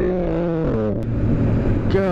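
A Yamaha R1 sportbike with a loud aftermarket exhaust roars close by while riding, its engine note stepping up and down in pitch as it shifts and accelerates, with wind rushing past.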